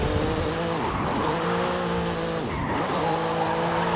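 A black Volkswagen Fusca (Beetle) race car drifting in Forza Horizon 5, engine droning steadily while the tires squeal and skid through two long slides, loud and continuous with no talk.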